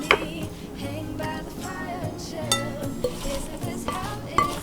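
A spoon stirs apple pie filling of sliced apples, grated lemon peel and other ingredients in a bowl, giving repeated close scraping and soft clinking strokes in an uneven rhythm, with no talk.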